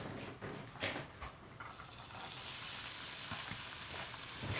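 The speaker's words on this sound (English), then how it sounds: "Nice bit of sizzling noise." Onions sizzle steadily in a hot pan, a continuous crackling hiss with occasional pops, close by and fairly quiet.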